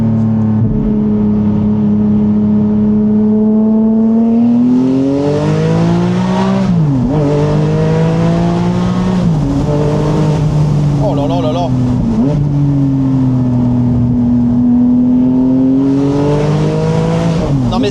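Hybrid-converted Porsche Boxster Spyder accelerating hard, its engine note climbing and dropping through repeated gear changes, loud and close, with an excited voice exclaiming over it.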